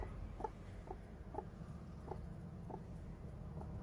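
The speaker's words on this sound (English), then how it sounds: "Can you hear it clucking?" A brown Silkie hen broody on eggs in a box gives soft, quiet clucks, about six short evenly spaced notes over a low background hum.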